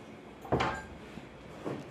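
A house door swung open in the early morning, giving a short creak and knock at close range, followed later by a fainter second bump, with no talking.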